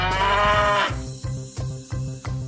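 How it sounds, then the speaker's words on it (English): A cow moos loudly and close, one long drawn-out low call that ends in a run of short repeated grunting pulses, heard alone with no talk. "3 cows."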